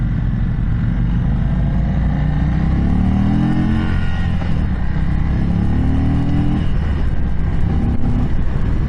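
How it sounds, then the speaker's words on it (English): 2022 Indian Chief V-twin motorcycle engine revving hard while riding, a loud continuous roar with rising and falling pitch sweeps under steady wind rush, no voices. "I hit the rev limiter for sure."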